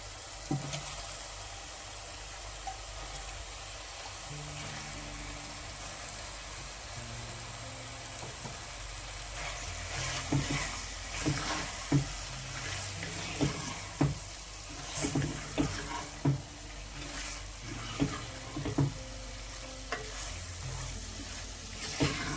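Chicken tossed into cooked spiced masala for a curry, sizzling steadily in the pan, with sharper scrapes and stirring knocks arriving in a rhythmic run during the second half.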